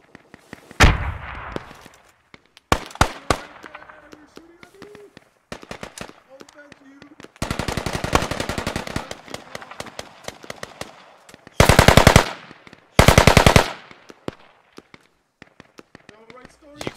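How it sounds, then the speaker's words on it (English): AK-74 rifles fire in the military shooter game Squad, with scattered single shots and sharp bursts building to sustained rapid automatic fire and two loud, dense bursts, some shots distant, while voices talk intermittently. "You could hear the AK or AK-74s or whatever."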